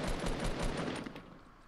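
Rapid automatic gunfire from a Fortnite Battle Royale duos tournament match, a dense loud burst of repeated shots that tapers off toward the end.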